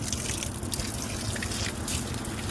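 Tap water runs in a continuous, fairly faint stream, splashing and trickling steadily throughout with no one speaking.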